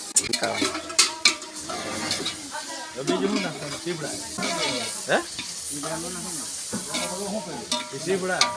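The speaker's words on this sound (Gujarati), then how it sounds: "આ બાજુ શાક વઘારાય છે શાક વઘારાઈ ગયું છે" Carrot, tomato and chilli relish with vegetables tempered in a large pot for a group cooking temple offerings, sizzling with repeated clanks and scrapes of ladles against metal, while people talk nearby throughout.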